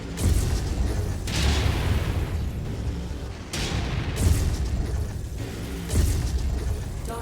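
Missile explosions in the MechWarrior 5 mech combat game: several heavy, booming blasts about a second or two apart, each with a loud low rumble that decays into a continuous roar.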